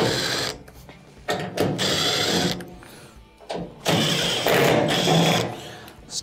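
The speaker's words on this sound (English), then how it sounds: "on the back here we have 3 1/4-inch screws that have to be removed" Power driver whirring in short bursts while backing out quarter-inch screws from the top panel of a leaking washer, with clicks and handling noises between the spurts, close and fairly loud, no talking.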